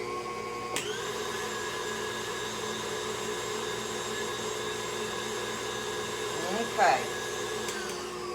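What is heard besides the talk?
electric mixer blending pumpkin pie filling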